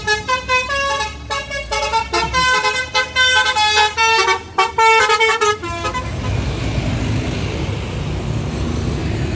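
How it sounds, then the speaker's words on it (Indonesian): A Rosalia Indah intercity bus pulls in at a roadside stop in Wonosobo, sounding a loud, melodic multi-tone horn in repeated bursts for about six seconds before giving way to steady engine and road noise. "bus yang pertama masuk"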